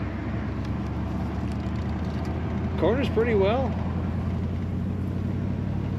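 Engine of a 1950 Oldsmobile 88 convertible while driving: a steady, low, moderately quiet rumble heard throughout from inside the car, with someone talking briefly partway through.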